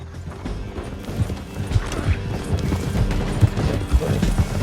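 Horse hooves clip-clop in a quick steady rhythm during a ride in Red Dead Redemption 2, moderately loud over a busy game background.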